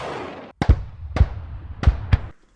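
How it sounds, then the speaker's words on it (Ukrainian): Four sharp gunshots from a Ukrainian border guard unit ring out at uneven intervals, each a loud, punchy bang with a deep thump, following a stretch of low background noise. "Постріл!"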